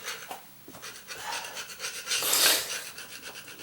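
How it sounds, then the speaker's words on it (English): A hand scraper rasps across an old linoleum floor, a run of close, scratchy strokes that build into a louder, harsher scrape near the end, with no voices. "If you can feel thick ridges underneath your blade of your scraper, then you're going to want to scrape it."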